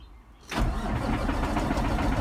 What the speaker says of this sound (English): let me turn the truck on